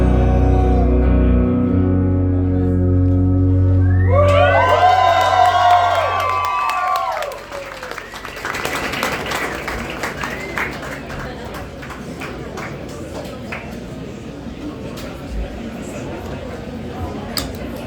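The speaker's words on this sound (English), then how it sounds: "Thank you all for clapping." Loud applause and cheering from a crowd follows the end of a song, then settles into scattered clapping and murmuring voices.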